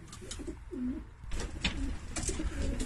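Pigeons coo softly nearby, low rolling calls repeating over faint background rustle.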